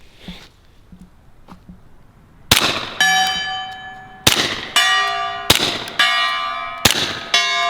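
Ruger carbine rounds strike a steel gong, five loud ringing clangs spaced about a second apart, each sustaining a metallic tone, after a few faint distant pops.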